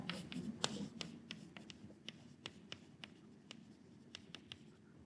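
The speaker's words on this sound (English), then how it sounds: "Let's write this down." Chalk or marker strikes and scratches on a board during a mathematics lecture, heard as quiet, irregular taps and short strokes over a faint room hum.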